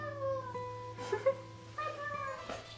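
A cat meows indoors in a series of tonal, drawn-out cries, some louder and some softer, over a faint steady electrical hum.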